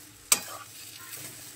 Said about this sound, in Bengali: আলুটা একটু ভাজা ভাজা করে নেব।